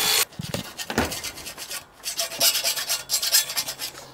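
Hand filing on cut Unistrut steel roof-rack channel: a series of irregular rasping strokes, close and fairly loud, with brief pauses between bursts and a faint steady hum underneath.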